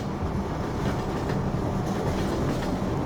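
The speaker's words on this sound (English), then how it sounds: "Wait, is the train actually moving?" A train rolls along in the Half-Life mod Hunt Down the Freeman, giving a steady, dense rumble with a faint clickety-clack that never lets up and no voices.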